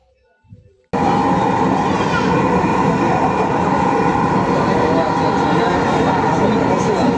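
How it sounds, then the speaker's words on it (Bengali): A Dhaka metro rail train runs between elevated stations toward Uttara Center, a loud steady rumble with wheel and track noise that starts abruptly after a brief quiet moment and continues unbroken. "এখন এখানে ট্রেনটি থামবে এবং যাত্রী উঠাবে"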